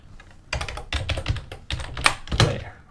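Typing on a computer keyboard, with quick clusters of close, crisp key clacks and a few heavier thunks, arriving in three or four bursts separated by short pauses.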